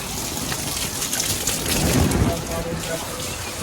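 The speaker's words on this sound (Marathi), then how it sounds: "खूप पाऊस आहे, खूप पाऊस आहे. एवढा पाऊस आहे की विचारू नका." Heavy rain pours steadily, a dense hiss of drops hitting surfaces, with a low rumble swelling near the middle.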